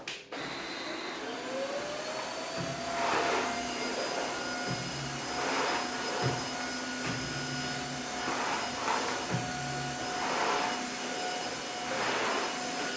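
A Tineco iFloor 3 cordless floor vacuum runs steadily with a constant whining motor, with rhythmic surges of suction as it sweeps back and forth picking up crumbs.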